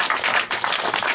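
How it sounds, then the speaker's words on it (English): An audience at a political event claps steadily in a short, loud, dense burst of applause. "A round of applause for Greg Walker."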